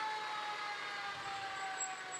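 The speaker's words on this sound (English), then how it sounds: "Those sirens get pretty loud" Emergency vehicle sirens, from fire trucks, sheriff and EMS vehicles in a town festival parade, wail steadily and loudly throughout with a sustained high tone and no talking.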